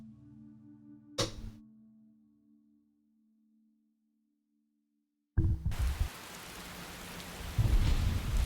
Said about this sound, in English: It's raining now and it's dark.